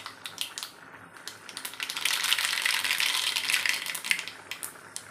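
Mustard seeds hitting hot oil to temper boiled tuvar dal: scattered sharp crackles and pops at first, then a louder, rushing sizzle that swells and holds, heard close.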